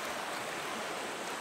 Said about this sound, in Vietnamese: Ôi, suối ở đây nha.